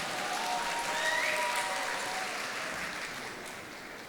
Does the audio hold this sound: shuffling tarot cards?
no